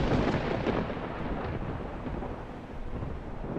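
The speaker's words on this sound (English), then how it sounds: "until thunder silenced them." Thunder rolls as a deep, continuous rumble that stays loud throughout, with the heaviest crashes at the very beginning.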